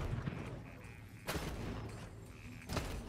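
Faint gunfire in Borderlands 3, two sharp cracks standing out over a low, busy backdrop of game music and ambience.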